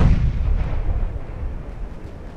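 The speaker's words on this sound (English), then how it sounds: "Lots of return fire coming in, though." A heavy naval gun blast from warships in the battle game Ultimate Admiral: Dreadnoughts, a single deep booming report that rolls and slowly fades over a couple of seconds.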